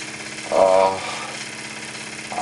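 A Microcosm M1 marine steam engine fed by a gas-fired boiler with its power turned down runs slowly, giving a steady low mechanical chugging with a louder surge near the start.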